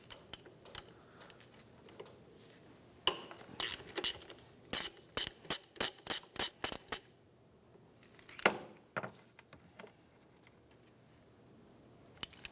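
Wrench clicks and metallic ratcheting on a 10 mm power steering pressure line fitting at the back of a 2003-2011 Honda Element, with a rapid run of about eight sharp clicks in the middle and scattered taps and clinks around it.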